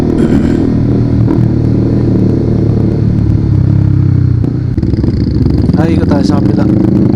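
Motorcycles at a motorcycle show, a loud, close rumble of idling engines that holds steady throughout, then turns to rougher revving and clatter toward the end.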